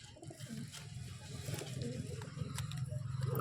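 Madras pigeons kept at a home loft coo steadily and close by in low, rolling, continuous murmurs, with faint background noise and no speech.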